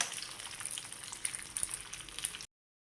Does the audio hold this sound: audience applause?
no